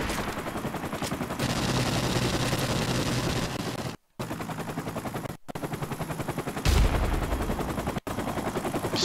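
Rapid, loud gunfire from a burst-fire gun in Call of Duty 4: Modern Warfare Remastered, sounding as long dense volleys broken by a few brief gaps, with no talk over it.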